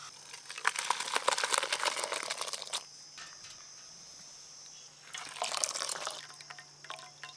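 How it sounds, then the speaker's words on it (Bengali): Whey drips and trickles as curdled milk chhana is strained for rasmalai, a wet patter in two bursts separated by a quieter pause, close by with no talk. "এবার আমি ছানাটা ভালো করে ছেঁকে নেব।"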